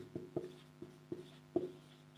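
Scattered taps and short scratches of writing on a classroom board, about six faint strokes at an uneven rhythm, with no speech.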